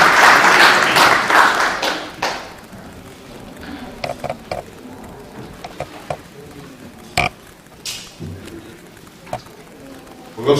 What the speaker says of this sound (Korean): 힘찬 박수 한번 보내주시죠